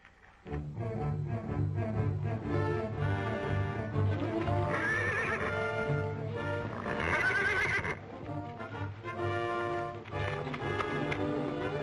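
A horse whinnies loudly and repeatedly, with clip-clopping hooves, in a 1936 Zorro adventure film scene. The sound is dense and sustained for most of the clip after a quiet opening.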